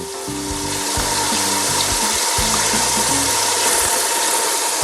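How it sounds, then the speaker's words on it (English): A pepper grinder cracks whole black peppercorns with a quick, gritty ratcheting crunch, repeated steadily up close over a constant sizzling background. "you can crack your whole black pepper"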